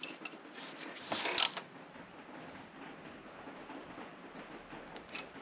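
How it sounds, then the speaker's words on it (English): Baxter Performance oil adapter being screwed by hand onto a Jeep 3.6 engine, heard as soft close mechanical creaks and ratcheting scrapes with one brief sharper clatter, fairly faint and with no talk. "And now we'll screw this into place."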